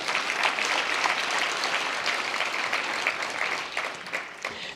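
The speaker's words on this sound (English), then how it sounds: "Give that a big round of applause." An audience at a mayoral housing, transportation and jobs summit in Los Angeles applauds, dense sustained clapping that stays loud, then thins slightly toward the end.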